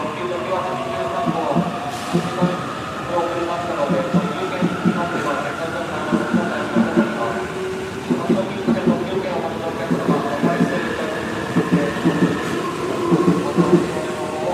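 Tokiwa limited express train pulling in more than three hours late, its wheels rumbling and clacking rhythmically over rail joints with a steady droning hum, loud and close throughout.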